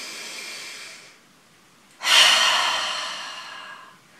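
A deep breath during a guided breathing exercise: a steady audible exhale fades, a pause follows, then a strong, close inhale rushes in and slowly tapers off.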